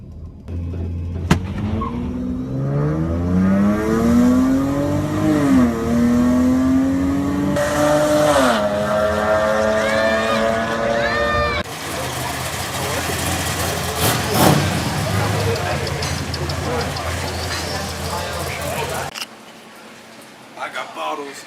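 A race car accelerating hard and pulling away from an NSX, its engine note climbing through gears with tire noise, loud and close, while people talk over it before it cuts off near the end.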